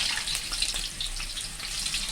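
Tap water runs steadily into a sink over freshly sliced potatoes being rinsed for crispy anchovy potato chips, a continuous close hiss and splash with no talking.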